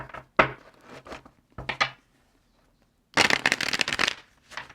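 Tarot cards are shuffled in quick riffling bursts, with a couple of short flicks, a brief pause, then a longer dense shuffle and a final flutter, close and clear.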